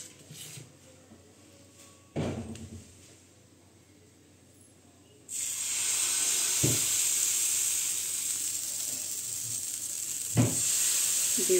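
Dosa batter, pre-salted overnight and ladled thick, sizzles loudly on a hot buttered tawa, starting suddenly midway and holding as a steady bright hiss, with a few sharp knocks of utensils before and during.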